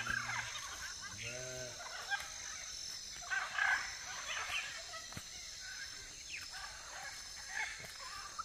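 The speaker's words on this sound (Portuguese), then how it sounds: "Galinha que é bom que é criada solta, tem galinha aí pra todo lado." Free-range chickens roam a Brazilian farm, with scattered clucks and calls of varying loudness, some close and some farther off, over a faint steady background.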